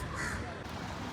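Crow cawing in Cubbon Park, Bengaluru, a short outdoor call heard over a busy background of other birds and ambient noise, with no voices in the moment.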